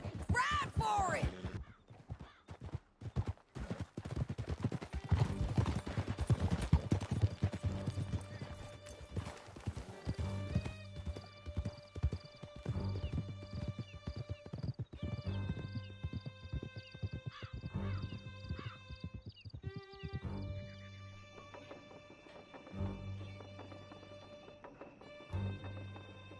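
Horses gallop hard in the video game Red Dead Redemption 2, with loud, rapid, rhythmic hoofbeats that build and then ease. Game music swells over them and a horse whinnies briefly.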